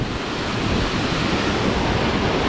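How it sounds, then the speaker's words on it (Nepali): A waterfall at Simba Falls in Manikhel, Lalitpur, rushes in a steady, dense roar that fills the whole clip at close range, with no voices. "यहाँ हेर्नु झरना"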